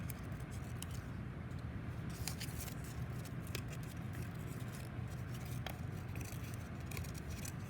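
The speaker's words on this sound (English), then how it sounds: "just cut it into a rectangle so I'm not using the whole paper" Scissors snip paper into a rectangle in a kindergarten craft activity, producing soft, quiet cutting and rustling sounds close by with faint scraping and no talk.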